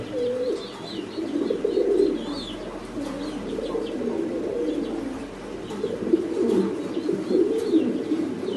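Farm-loft pigeons coo steadily and continuously at close range, a layered low burbling chorus with occasional faint chirps, no voices.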